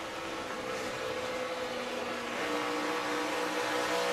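A NASCAR Camping World Truck Series race truck at Kansas heard from onboard as the driver lifts off the throttle and corrects a bobble in turn 3, a steady loud engine drone whose pitch shifts midway.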